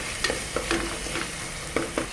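A tomato and salt masala is stirred in a pan, soft sizzling under repeated light scrapes and taps of a spoon against the metal, close and quiet with no talk.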